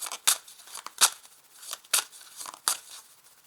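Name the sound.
drawing an advice card from a card deck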